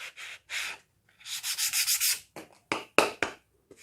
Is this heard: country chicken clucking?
no